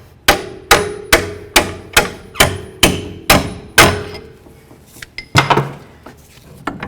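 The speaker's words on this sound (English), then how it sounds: "I'm going to use my hammer and I'm going to bonk on the other side of this bolt" Hammer blows on a punch driving a bolt from the front axle of a 2008–2012 Jeep Liberty: eight sharp, evenly spaced metallic strikes, then a pause and a few quicker, lighter taps, loud and close with no talk.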